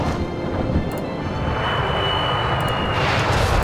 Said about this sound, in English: We're gonna keep moving in our helicopters,